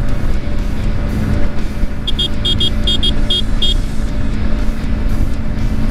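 A Yamaha MT 15 V2 motorcycle cruises on the road at around 90 km/h and 7000 RPM, giving a loud, steady rush of engine and wind noise throughout, with a short run of high electronic beeps in the middle.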